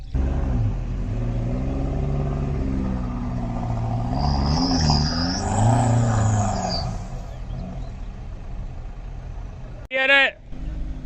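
A 2022 Jeep Wrangler Rubicon crawls off-road in 4x4 low, first gear, with front and rear differentials locked. Its engine is a steady loud rumble that swells midway, and a brief sharp squeal comes near the end.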